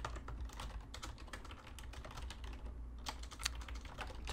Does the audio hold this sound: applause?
no